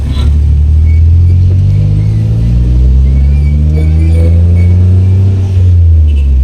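A car driving through traffic in Cotabato, a loud steady engine rumble with rising and falling pitch as it accelerates, close and continuous with no talk.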